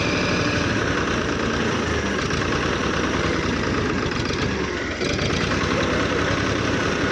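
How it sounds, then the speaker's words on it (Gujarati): A tractor engine runs steadily and loudly, labouring under strain as though overheated and short of power, with a low rumbling drone that persists throughout and dips briefly near the midpoint. "પ્રેશર જ નહીં આવ, બળ જ નહીં કરતું ટ્રેક્ટર"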